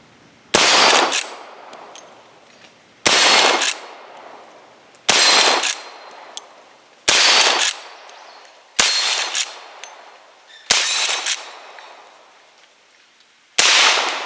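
A Henry Big Boy Silver lever-action rifle in .357 Magnum fires seven loud, sharp shots outdoors, spaced about two seconds apart, each followed by a brief echoing decay.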